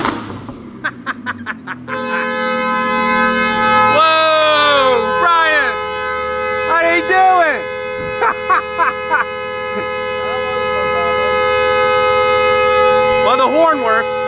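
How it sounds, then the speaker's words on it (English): An Audi's loud, sustained car horn blares nearly nonstop, with a voice shouting and whooping over it in bursts. "Well, the horn works."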